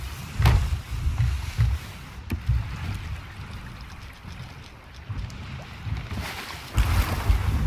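A ship sails the open sea in the video game Sea of Thieves, with rolling wave wash and wind rushing in swells, a couple of sharp knocks midway, no voices.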